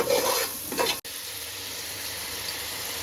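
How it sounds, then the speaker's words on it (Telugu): Spices sizzling in hot oil in a pan for fish biryani, with a brief stir and scrape at the start, then a steady close crackle that continues alone. "ఇవన్నీ పచ్చివాసన పోయేంత వరకు బాగా ఫ్రై చేసుకోవాలి"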